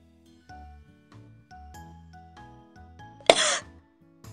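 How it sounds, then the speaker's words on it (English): One short, sharp cough breaks in near the end, loud and close, set against light, sparse musical tones in an English listening lesson about illnesses. "A cough."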